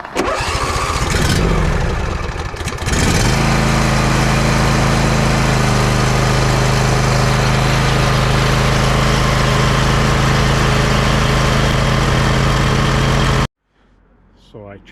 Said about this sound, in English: I'm going to turn the key on and turn the engine over